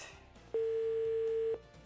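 A telephone dial tone sounds as one steady, clean electronic hum lasting about a second. It is loud and alone against a faint background.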